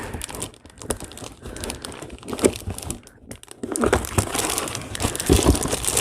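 Decorative paper being handled up close, continuous crinkling and rustling with sharper crackles and brief pauses, growing louder and busier toward the end.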